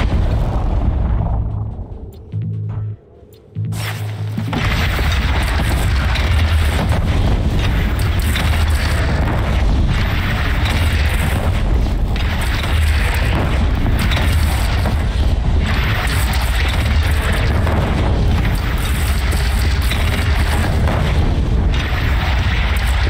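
Heavy cannon fire in Horizon Zero Dawn, dense continuous booming and rumbling blasts filling the scene loudly after a brief quieter moment near the start.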